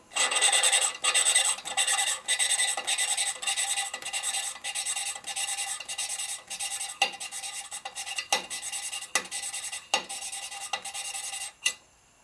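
Engine valves being lapped with a lap stick and grinding compound on a 1983 FLTC 80ci shovelhead motor, a close, rhythmic back-and-forth gritty rasping repeated steadily, with strokes growing sparser toward the end.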